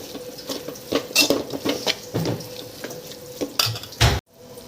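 Spoon clatters and scrapes against a bowl while chili powder is mixed into a vegetable and potato filling for cheesy paratha, a run of close, irregular clinks and stirring scrapes, ending in a sharper knock.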